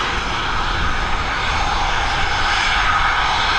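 Swiss airliner coming in to land on the North Runway at Dublin Airport, a steady loud engine roar with broadband rush held evenly throughout, close and continuous with no voices.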